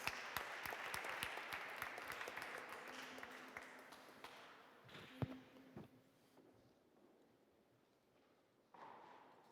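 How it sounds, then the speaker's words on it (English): Very quiet, distant applause from a conference audience as speakers come on stage, clapping that thins and fades out partway, followed by a few thuds and near-silence. "Give an applause when they come on stage."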